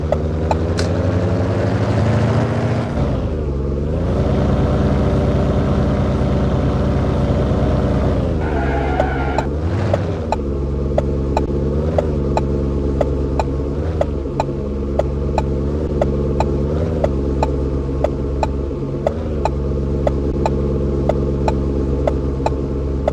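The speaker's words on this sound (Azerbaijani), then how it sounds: "Maşının səsini göstərəcəm, indi hamı baxsın." A car engine in a video game drones steadily and loudly, its pitch dipping and rising with gear changes, while a regular ticking repeats throughout; no one talks.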